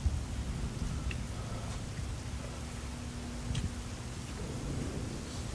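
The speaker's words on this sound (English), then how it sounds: "So it's raining." Steady rain falls on an outdoor enclosure where Aldabra giant tortoises sit in a mud hole, a continuous soft hiss of drops with faint rumbling underneath, no voices.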